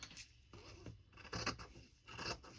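Scissors cutting off excess fabric, close and distinct, with several crisp rasping snips in uneven bursts, no talk.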